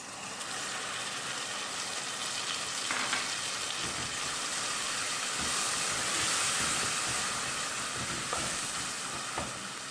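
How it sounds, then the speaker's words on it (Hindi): Chana dal simmering on a low flame after milk is poured in, giving a steady, even sizzle and hiss with faint scraping clicks, continuous throughout. "अब मैं इसमें थोड़ा सा दूध ऐड करूँगी।"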